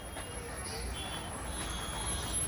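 Road traffic on Republic Day on the route from Raigad to Mahabaleshwar, a steady rumble of trucks and buses passing close by with a hint of air brakes, under faint talk.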